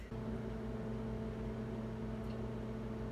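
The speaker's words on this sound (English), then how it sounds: "I'm going to microwave it so that the tortilla shells stick to each other just a little bit" A microwave oven hums steadily while heating tortilla shells for a deep fried burrito, a constant droning tone close by with no talk.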